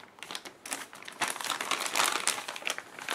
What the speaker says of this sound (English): It's in a plastic bag.